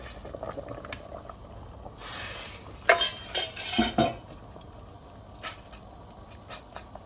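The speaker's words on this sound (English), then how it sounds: "Just gonna give it a good stir" Purple yam gets stirred in a cooking pot, with soft scrapes and a few clustered clinks and knocks of a utensil against the pot, fairly quiet overall.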